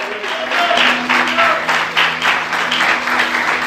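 Church congregation applauding during a worship service, dense continuous clapping close by with a low sustained tone running underneath.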